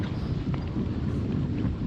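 Strong wind buffets the microphone at a sunny match-racing sailing event in Macao, a constant loud low rumble with faint water and boat noise and no clear talk.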